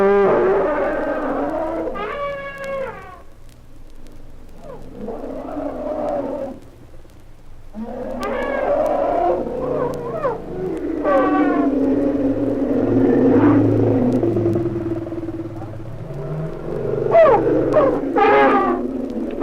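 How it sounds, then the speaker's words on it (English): Elephants trumpeting and rumbling, recorded on a vinyl record of animal sounds, with several loud, wavering calls and low groans spread over the stretch and a few sharp upward blasts toward the end, with no talking. "During their daily outdoor shows, frequently the elephants will loudly express their resentment."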